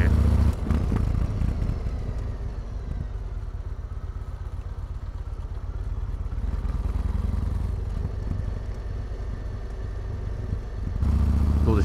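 A motorcycle ridden over a rough, bumpy road, heard as steady engine drone and wind rumble with rattling knocks throughout, loud and close as if picked up on the bike itself.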